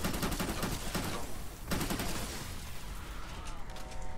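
Rapid bursts of gunfire in the video game Fortnite: Save the World, dense overlapping shots and a heavy blast in the middle, loud and sustained before thinning toward the end amid game effects.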